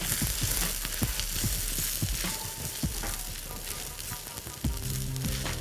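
Vegetable spring roll filling with sauce is stirred quickly as it fries in a pan, giving a busy sizzle broken by repeated sharp spoon scrapes and knocks, fairly close but modest in level.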